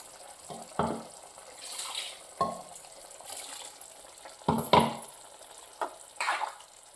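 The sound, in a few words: stirring spicy okra gravy in a pan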